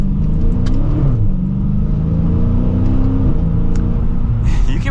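A 2023 Dodge Challenger R/T Scat Pack with the 392 V8 drones steadily while driving in track mode, a close, continuous low engine rumble that rises and falls slightly with throttle and gear changes, with no talking.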